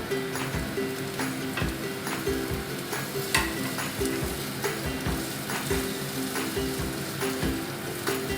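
Egg brinjal bharta sizzling steadily as it is sautéed in oil in a pan, with a close, continuous frying hiss broken by regular stirring scrapes and taps of a spatula.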